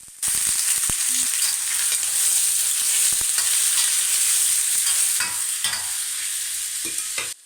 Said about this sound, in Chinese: 加入姜末、蒜末炒香， 倒入冬瓜，